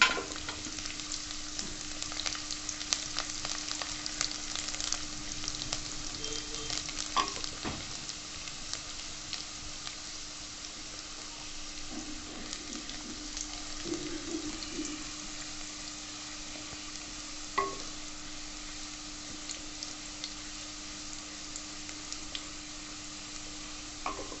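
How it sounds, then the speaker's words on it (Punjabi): Garlic fries in hot oil for an aloo methi dish, giving a steady close sizzle with occasional stirring scrapes and clinks throughout, no voices. "ਹੁਣ ਇਹਦੇ ਵਿੱਚ ਪਾਵਾਂਗੇ ਜੀ ਆਪਾਂ ਲਸਣ ਲਸਣ ਨੂੰ ਵੀ ਚੰਗੀ ਤਰ੍ਹਾਂ ਪਕਾਵਾਂਗੇ"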